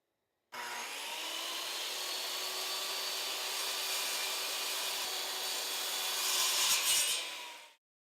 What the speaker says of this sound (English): This will be the cut line for our circular saw.